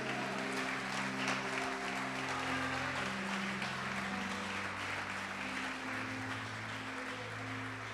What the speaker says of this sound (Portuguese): Pode aplaudir, adora Ele